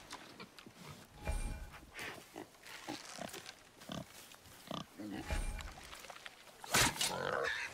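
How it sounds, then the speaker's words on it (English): A wild boar in God of War grunts and squeals in snorting, pig-like bursts, close and fairly loud, with rustling and game sounds between the calls. "Wild boar's hide is thick."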